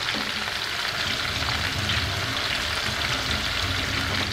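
Chopped vegetables with red pepper sauteing in a pan, a steady close sizzle and crackle of frying that continues evenly throughout, with faint stirring and no talk.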